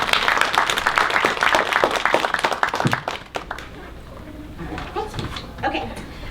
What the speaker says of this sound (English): please give a warm applause to welcome these three amazing women to our stage